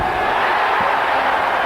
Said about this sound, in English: ML just likes to hear the cheers